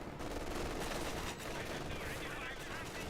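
Sustained gunfire pins down an infantry squad in Company of Heroes 2, with rapid machine-gun bursts and rifle shots layered over a constant battlefield roar. The firing is loud and continuous throughout.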